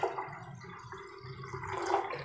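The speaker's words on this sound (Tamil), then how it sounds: "1/2 கப் பருப்புக்கு நீங்கள் 2 கப் அளவுக்கு தண்ணி சேர்த்துக்கலுங்க." Water pours into a pot of lentils in a steady, sloshing stream that swells slightly toward the end, with no talking over it.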